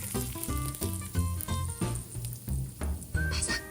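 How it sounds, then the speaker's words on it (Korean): Perilla seed cluster bugak frying in hot oil, a dense, steady crackling sizzle with sharp pops scattered throughout, loud and close with no talking. "바삭바삭 튀겨지는 소리가 정말 맛있게 들리죠."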